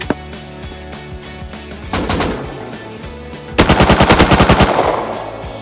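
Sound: gunfire in the video game Rust

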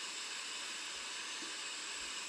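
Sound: pink noise background sound from iOS 15

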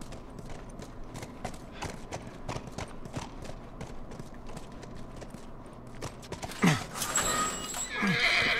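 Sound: horse neighing and hooves in The Last of Us video game

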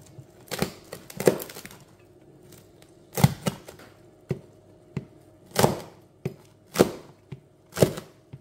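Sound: knife slicing food

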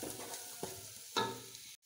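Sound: stirring frying onions with salt for fried rice

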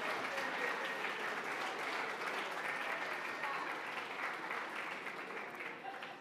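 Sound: gala audience applause

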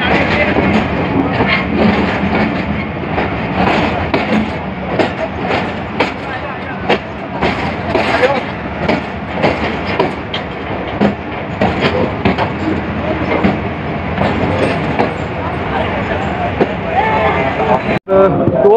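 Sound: train departing station

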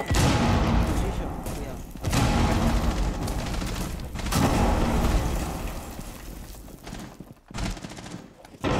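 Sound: grenade explosion in video game Rainbow Six Siege

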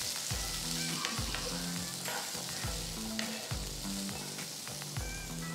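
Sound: stirring boiled peanuts in sizzling mustard-seed tempering

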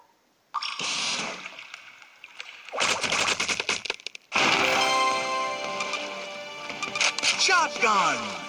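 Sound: shotgun fire in the video game Ramboat

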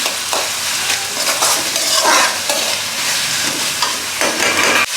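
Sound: puri upma seasoning frying and being stirred in a pan

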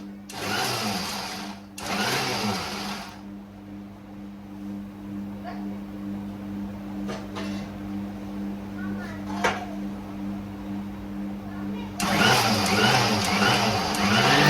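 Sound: mixer grinder grinding peanuts

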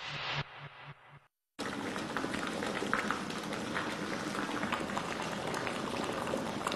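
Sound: water boiling in a kettle

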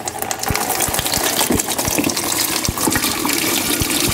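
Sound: solution poured from car battery into bucket

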